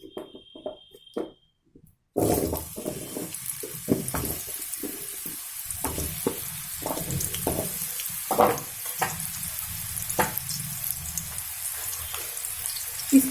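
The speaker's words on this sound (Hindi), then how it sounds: "अभी मैं पंपकिन या कद्दू को फ्राई कर लूंगी।" Pumpkin fries in a pan, a sustained crackling sizzle that starts after a short quiet opening, with scattered utensil clicks and scrapes, nearby with no talking.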